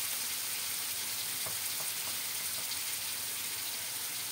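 Pointed gourd and potatoes fry in a pan with turmeric and salt, giving a faint, steady sizzle with a few soft stirring taps partway through. No one speaks.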